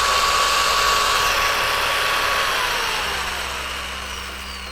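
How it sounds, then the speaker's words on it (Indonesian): Bench grinder used for sharpening drill bits and chisels winds down after being switched off, a steady whining motor hum with a falling pitch that slowly fades over several seconds, heard alone without talk. "kita harus mematikan gerindanya."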